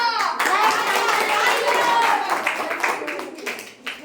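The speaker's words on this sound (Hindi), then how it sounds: "तालियां।" Children in an eighth-grade maths class clap together, a quick burst of brisk hand claps with kids' voices mixed in, tapering off over a few seconds.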